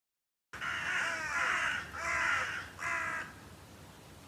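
Crows caw outdoors in three drawn-out harsh bursts, moderately close, over quiet background hiss.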